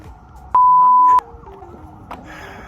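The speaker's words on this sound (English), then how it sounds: "goddamn sirens." A beeping electronic street siren with a long steady tone and a few shorter chirps, fairly loud in the open street, then trailing into quieter wavering siren tones over background traffic hum, somewhere in Pattaya, Thailand.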